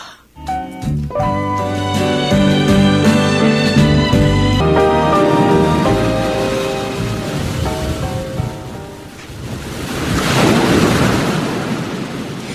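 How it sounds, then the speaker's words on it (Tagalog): Sea waves wash against the shore as a broad, hissing surge that swells near the end, largely masked by a loud music score playing throughout. "Ivy, ang ganda ng dagat, no?"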